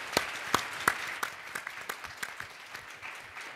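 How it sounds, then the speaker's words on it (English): A conference audience applauds its panelists with a short burst of scattered, moderately faint clapping that thins out over a few seconds. "can we get a round of applause for all three of our panelists"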